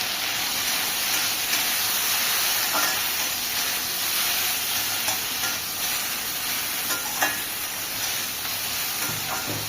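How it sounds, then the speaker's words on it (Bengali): Okra (bhindi) frying in oil, a dense hissing sizzle that stays steady and fairly loud, broken by occasional light stirring clicks, with no one speaking. "পাঁচ মিনিট মতো ঢেকে ঢেকে ফ্রাই করতে হবে, তবেই ভেন্ডিটা ফ্রাই হয়ে যাবে।"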